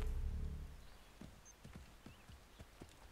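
Horse hooves clip-clop in Assassin's Creed 3 as a horse moves along, a series of distinct, moderately loud hoof strikes following a brief low rumble, with no voices.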